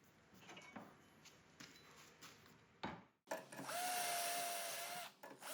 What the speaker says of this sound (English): Sinking our drill bit into the second wooden handle scale to finalize our alignment holes.